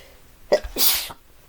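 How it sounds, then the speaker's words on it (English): A single sharp sneeze, a quick intake followed by a bright, explosive burst, close and clear against quiet. "I'm sneezing."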